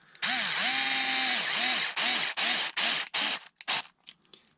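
A power driver runs a screw into the cover of an RC car center differential case, starting with one long whirring burst that revs up and down, then several short pulses as the screw seats.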